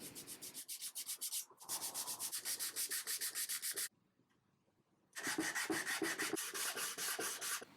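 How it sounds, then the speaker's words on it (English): Steady rasping random orbital sander noise on wood, loud and close, running in long stretches with a short pause in the middle before resuming. "Then of course there were more sanding."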